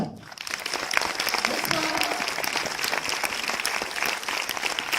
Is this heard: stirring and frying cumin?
no